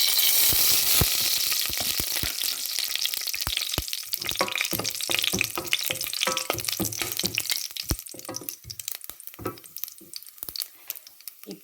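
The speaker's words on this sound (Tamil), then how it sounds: "எண்ணெய் சூடாகிட்டது நாங்கள் தாளிக்கிற வளத்தையும் போடுவோம்." Spices crackle and sizzle in hot oil for tempering, a dense spattering hiss with sharp pops that gradually thins out, close and loud.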